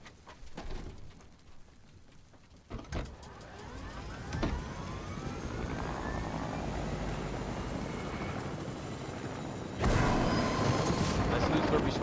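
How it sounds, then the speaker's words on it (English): A Fortnite helicopter whirs into flight, a steady rotor drone that swells and becomes louder partway through and continues to the end, with players talking over it. "We'll take the helicopter."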